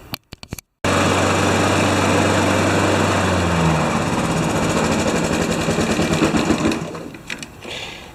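A Honda HRA214 lawn mower with a sticky blade clutch idles in a steady, loud buzzing drone after a few brief knocks, then the engine note roughens into rapid pulsing and fades toward the end.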